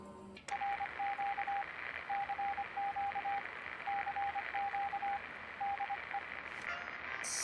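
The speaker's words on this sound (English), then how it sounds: "Seems to be in Morse code." Morse code radio signal picked up from a tower in the Fallout game, a steady tone beeping in groups of dots and dashes over a constant hiss of static, with no talking.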